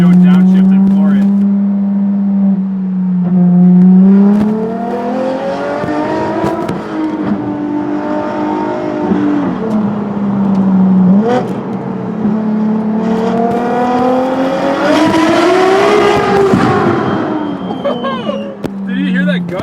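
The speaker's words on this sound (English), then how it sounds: "Hit every tunnel in the LaFerrari, otherwise it's just a criminal sin if you don't downshift and floor it." A modified LaFerrari with an FXXK exhaust and power tune downshifts and accelerates through a tunnel, a loud, echoing V12 engine note climbing and dropping through the gears with brief crackles, close and sustained.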